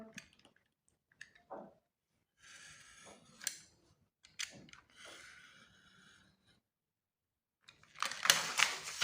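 A utility knife cuts a storage sheet for cutting dies in short, scratchy bursts of slicing separated by quiet pauses, followed by a louder rustle of the sheet being handled at the end, close and with no talking.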